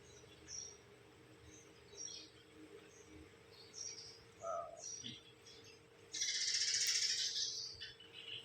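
Sparrows chirping in short bright bursts scattered across the recording, faint and somewhat distant over a low hum, with a louder dense burst of chatter near the end.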